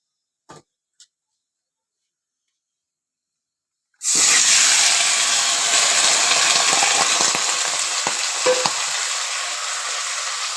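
Malabar spinach dropped into a hot kadai already tempered with panch phoron and chillies bursts into loud, steady sizzling frying that starts abruptly after a few faint taps and keeps hissing strongly, slowly easing off.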